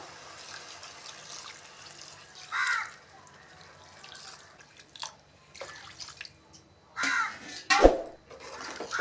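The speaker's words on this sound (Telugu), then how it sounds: "ఇప్పుడు తగిన నీళ్ళు వేస్తున్నాను" Water splashes and trickles in short bursts into a cooking pot for fish and raw mango curry, with quiet clinks between them, close by and fairly soft.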